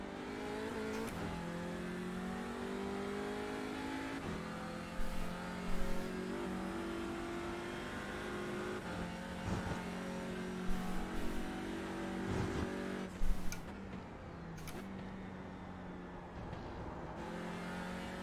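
TCR race cars, a Porsche among them, rev hard and hold sustained engine notes, with gear shifts and a few sharper bursts as cars pass through in a continuous racing roar.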